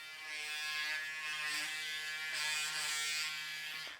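A Braun Series 7 electric shaver runs steadily and close up with a continuous high-pitched buzz and motor whine that holds an even level for about four seconds, with no talking.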